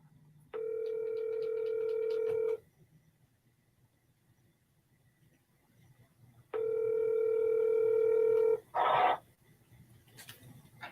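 A steady telephone dial tone sounds twice, each lasting about two seconds with a pause between, followed by a short burst of noise, as a call fails to ring through on a phone with a low battery.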